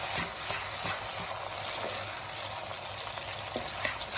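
Ginger garlic paste frying in a pan for an Indian okra masala curry gives a steady, close sizzle and hiss with a few soft stirring knocks, with no talk over it.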